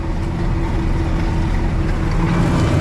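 A steady, loud Claas tractor engine drone with heavy low rumble and constant wind noise, the motor labouring continuously as it pulls an Alpego deep loosener up a steep field slope.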